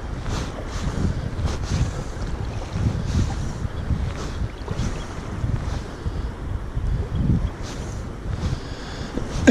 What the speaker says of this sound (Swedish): Vinden är lurig.